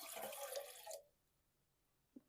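Water pours steadily into the top of an OEX Tacana camping stove for about a second, a bright splashing rush that cuts off abruptly, followed by quiet and one small faint drip or knock.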